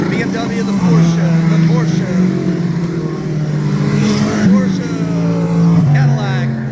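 IMSA prototype race cars, including a Cadillac and an Acura, roll past a trackside corner at Petit Le Mans under a caution period, their engines a steady loud drone with a few shifting pitches, alongside a person talking.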